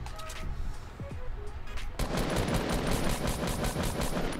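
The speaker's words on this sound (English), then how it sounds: "I'm out of assault rifle bullets" Rapid assault rifle fire from the Fortnite video game erupts in a dense, sustained burst through the second half, after quieter game sounds and a couple of isolated shots, loud and close throughout.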